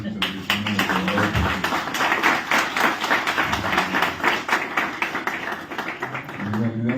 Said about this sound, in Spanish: le pido un aplauso por esta intervención de la senadora